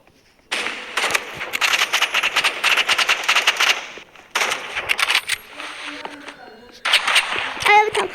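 Assault rifle fire in the shooter game Rivals comes in three loud, rapid automatic bursts separated by short pauses, with brief metallic pings at the end and a voice in the background.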